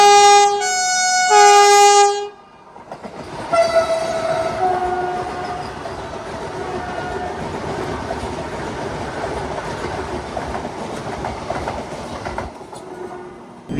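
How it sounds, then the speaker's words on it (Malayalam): A Vande Bharat Express bound from Vijayawada to Chennai via Renigunta sounds a loud horn in two blasts. Its steady roar and clatter follow as it passes close by for about ten seconds. "വിജയവാഡയിൽ നിന്ന് ചെന്നൈക്ക് റണികുന്ത വഴി പോകുന്ന ഒരു വന്ദേ ഭാരത് എക്സ്പ്രസ് ആണ് ഇപ്പോൾ അങ്ങോട്ട് പോയത്."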